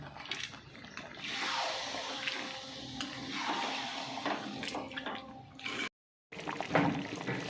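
Spice-rinse water pours into butter chicken gravy, a steady rushing, bubbling wash that runs for several seconds, breaks off briefly, then resumes.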